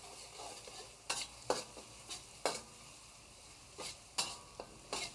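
Shallot, ginger and cinnamon stick stir-fried in a wok with salt: a soft, steady sizzle broken by sharp, irregular scrapes and clacks of the spatula, about eight strokes, close and fairly quiet.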